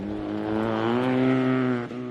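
A wide-body Mazda RX-7 rally car with a 13B turbo rotary engine on a rally stage, its buzzing engine note rising loud and close as it passes, then dropping away briefly at the end.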